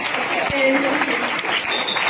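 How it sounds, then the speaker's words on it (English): Audience at a student-led conference applauds its teachers, a steady wash of clapping that carries on for the full stretch, with voices mixed into the crowd noise. "Can you please give a round of applause for your teachers?"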